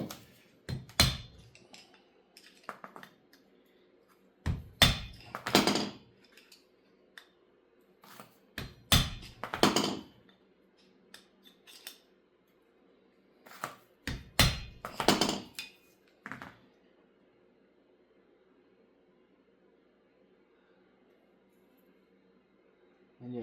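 A front hub bearing on a Honda TRX 450R or 400EX ATV gets tapped out with a hammer, giving sharp metallic taps in short clusters every few seconds, close and clear against near silence.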